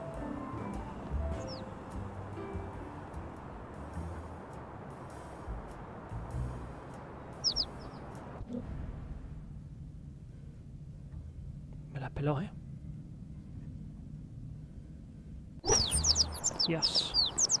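Birds in the video game Little Kitty, Big City chirp in short, sharp bursts over a low ambient hum, with a louder flurry of tweets near the end while people talk.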